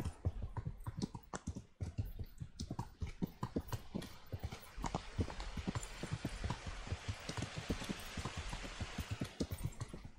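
Horse hooves clip-clop in a quick, steady rhythm in the video game Kingdom Come: Deliverance, close and continuous, over a soft background hiss.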